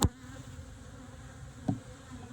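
A steady, low insect buzz drones throughout, with a couple of brief knocks near the start and again later, like bees humming around a hive.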